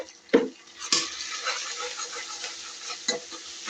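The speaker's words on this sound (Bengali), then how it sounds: "আদা রসুনটার সাথে হলুদটাকে আমি ভাজা ভাজা করে নিচ্ছি" Ginger garlic paste with turmeric fries in a pan with a soft, continuous sizzle, punctuated by a few close metal spatula clanks against the pan as it is stirred.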